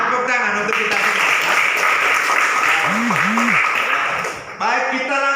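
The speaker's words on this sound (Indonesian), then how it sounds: "Tepuk tangan untuk kita semua." A class applauds together during a lesson, a dense burst of many hands clapping that runs for several seconds, with voices and cheering mixed in before it stops abruptly.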